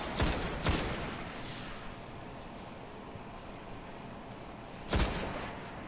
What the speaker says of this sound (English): I heard you shooting.